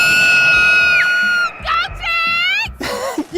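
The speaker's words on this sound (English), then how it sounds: "And now your sideline scream of the week" A fan at a football game lets out a loud, sustained, high-pitched scream that rises and wavers, over crowd noise on a sideline.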